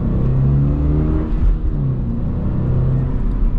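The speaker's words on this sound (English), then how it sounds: "setting off now in the" A 2026 Subaru BRZ TS sports car sets off from inside the cabin, its engine rumbling low and steady with a slight rise in revs as it pulls away, loud and close.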